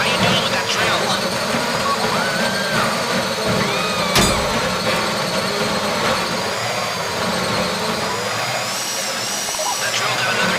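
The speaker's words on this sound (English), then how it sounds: "How you doing with that drill?" A drill grinds steadily through a safety deposit box during a bank heist in GTA Online, a continuous loud mechanical whine over engine-like rumble with no break.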